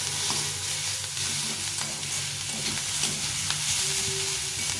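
Leftover stale rice and vegetables frying in a pan for fried rice, a dense continuous sizzle up close with light stirring scrapes and a faint low hum beneath, no voices.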